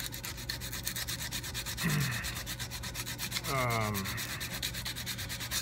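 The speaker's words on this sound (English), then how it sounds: "you just got to keep sanding and sanding to get them out" Steady, rapid rhythmic sanding scrapes against the metal of a Norton Commando 750 motorcycle part, removing casting marks, with a constant background hum and a couple of brief squeaky tones.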